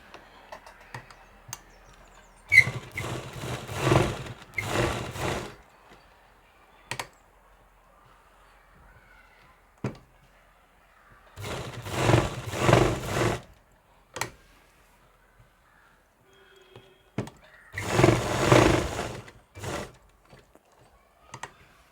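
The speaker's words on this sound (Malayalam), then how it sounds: "നമുക്ക് ആദ്യം ഇവിടെ കൂടെ ഒന്ന് പതിച്ച് സ്റ്റിച്ച് ചെയ്ത് കൊടുക്കാം" A sewing machine stitches a churidar in three separate bursts of a few seconds each, running close and fairly loud with quiet pauses between them.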